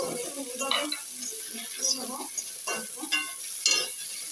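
Soybean chunks frying in a pan for a pea and soybean curry, stirred with a utensil that scrapes and taps in uneven strokes over a soft, steady sizzle.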